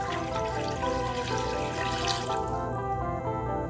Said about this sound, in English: the last thing is we're going to put in some water